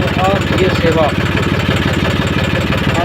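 A tractor engine runs by a canal at a farm, a loud, steady, close mechanical drone that continues without a break while people talk over it.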